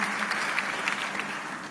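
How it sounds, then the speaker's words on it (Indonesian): A church congregation claps enthusiastically, a thick, continuous round of applause, loud and close, with no break over the short stretch. "kita tepuk tangan yang paling meriah bagi dia"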